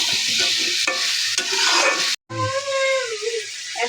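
Potatoes are stirred into a sizzling spice paste for aloo dum, with loud scraping and frying that cuts out for a moment, then resumes alongside a brief tonal sound.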